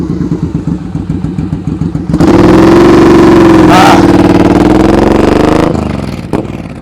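Boulevard motorcycle riding at slow speed during a practice session, its engine chugging unevenly at first, then swelling into a loud steady revving drone with clatter, close by, before easing off.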